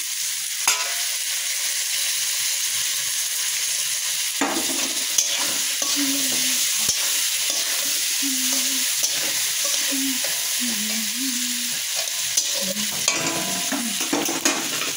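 Chopped tomato and spice paste frying in a pan for a plain vegetarian Bengali lunch: a steady close sizzle runs throughout, with scattered utensil scrapes and clinks over it and no talk.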